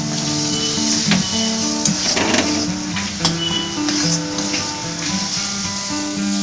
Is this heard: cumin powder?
yes